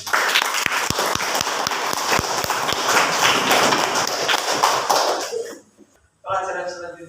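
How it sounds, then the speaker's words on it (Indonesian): A classroom group gives a burst of loud, close clapping for about five seconds, then it stops abruptly and a voice begins speaking. "tepuk tangan untuk kita semuanya."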